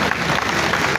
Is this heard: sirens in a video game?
no